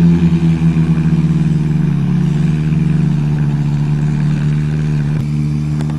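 A 1990 Toyota GTS and a Talon pull away in a street race, with a loud, close engine drone that pulses rhythmically at first and then settles into a sustained, slightly rising revving tone.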